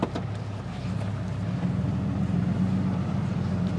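A Cummins diesel truck engine idles and rumbles steadily up close, a low droning throb that holds evenly throughout with no talk over it.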